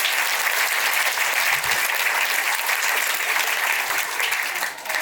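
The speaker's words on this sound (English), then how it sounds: "Give yourselves a round of applause." A dense, sustained round of applause from a large audience at a laughter workshop, loud and even throughout with little variation, tapering slightly near the end.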